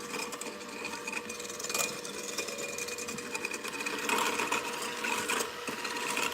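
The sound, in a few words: electric mixer whipping cream with sugar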